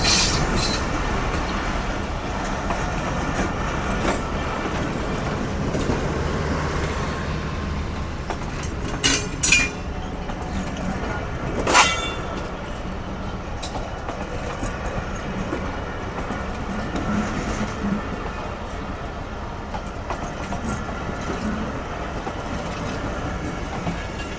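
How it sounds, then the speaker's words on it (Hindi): Awam Express passenger train rolling past on Pakistan's Main Line 1, a loud continuous rumble of wheels and carriages close by with scattered clicks and a few sharp squeals over its length. "पर इस वक्त हम खड़े हैं और ये अवाम एक्सप्रेस ने क्रॉस कर लिया"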